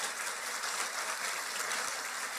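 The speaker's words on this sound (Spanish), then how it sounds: "Dale un fuerte aplauso a nuestro Dios" Applause from a church congregation during a sermon, a steady broadband wash of clapping filling the whole moment with no break.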